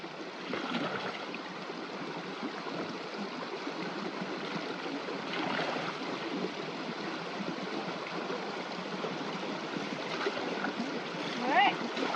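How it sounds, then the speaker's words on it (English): Creek water trickling and splashing as a gold pan scoops it into a 5-gallon bucket in remote off-grid Alaska, a continuous rushing stream with occasional sloshes of water, moderately loud and close. "Using our gold pan to fill up the bucket."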